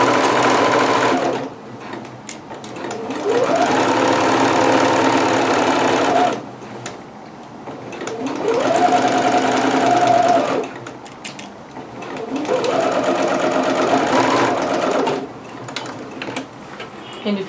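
Sewing machine stitching a dress seam from a McCall's M6701 pattern, running in three steady bursts of a few seconds each, separated by brief pauses, loud and close.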